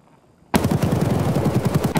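Gunfire in the video game Escape From Tarkov: after brief quiet, a loud, sudden burst of rapid automatic fire erupts and continues as a steady close-range stream of shots.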